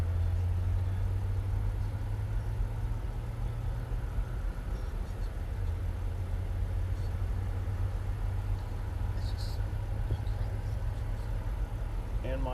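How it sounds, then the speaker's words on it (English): Dump trucks drive along an airport access road beside a viewing area, their engines producing a steady low rumble and idle drone, with faint hisses and clatter on top. "dump trucks going up and down the access road right in front of the viewing area here."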